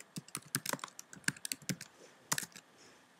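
Fingers tapping out a search on a computer keyboard, quick irregular clicks of keys in short bursts, close and fairly quiet with no talking.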